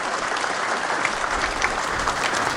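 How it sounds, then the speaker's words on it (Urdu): An audience at an award ceremony and tribute event in an arts council hall applauds, a steady, full wash of clapping from many hands throughout. "تالیاں بجا سکتے ہیں آپ لوگ"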